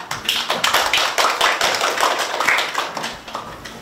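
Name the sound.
applause welcoming the library director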